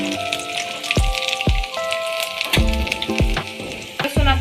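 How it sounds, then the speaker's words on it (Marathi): Garlic dropped into hot oil in a pan sizzles loudly and steadily, with sharp crackles and a few clinks of a stirring spoon against the pan, no talking. "आता आपण लसूण तेलामध्ये घालू।"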